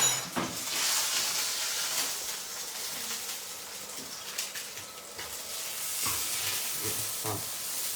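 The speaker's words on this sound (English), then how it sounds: "we're going to pop a couple of the potatoes just on that crispy side, just to get them nice and crisped up a bit." Sea bass, braised endive and new potatoes crisping in a hot frying pan give off a steady, close sizzle and hiss with brief scrapes and clatters, no voices.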